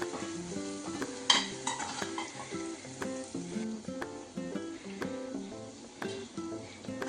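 Garlic, cumin and curry leaves sizzle in hot oil as a tempering for moong dal khichdi, a soft steady crackle with utensil clinks and stirring scrapes, close but fairly quiet.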